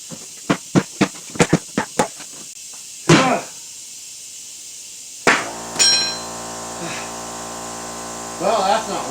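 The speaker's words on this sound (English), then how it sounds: "Hammer." A hammer strikes a motorcycle tire on a Suzuki rim to seat a stubborn bead, a quick run of about seven sharp knocks followed by a couple of heavier thuds, with a hum and hiss afterward.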